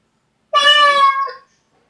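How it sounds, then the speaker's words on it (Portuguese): A single high-pitched meow from a cat, about a second long and clear, with no other sound around it. "o som agudo do gato"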